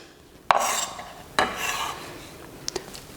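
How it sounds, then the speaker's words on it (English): Chopped tomato scraped off a board into a bowl, with two sharp knocks and short wet scraping sweeps followed by a couple of faint light taps, close and quiet, with no talking. "finishing up the tomato here. Get it nice and chopped. And into the bowl it goes."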